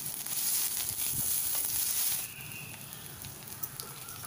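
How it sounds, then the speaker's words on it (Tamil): Chopped onion and curry leaves sautéing in hot oil for a Tamil chow chow koottu, a loud steady sizzle and crackle that drops to a softer frying hiss partway through, with no talk. "அதையும் கருவேப்பிலையும் போட்டு எண்ணெயில்"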